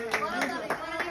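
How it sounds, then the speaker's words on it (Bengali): Four rhythmic claps ring out at an even pace during a wheel-spinning challenge game between brothers, with a voice running underneath. "হাততালি হাততালি।"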